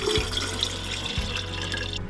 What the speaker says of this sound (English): Really like the flexible faucet because you can clean the sink with it.